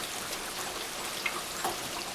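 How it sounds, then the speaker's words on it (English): Steady rain falling during a Christmas morning nor'easter storm, a dense, even hiss of drops on surfaces with a couple of slightly louder patters, no voices. "Rain has picked up,"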